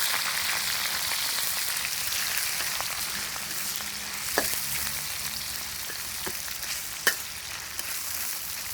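Duck meat frying with garlic until golden and crispy gives off a loud, constant crackling sizzle up close, with a few sharp pops and stirring knocks and no talking.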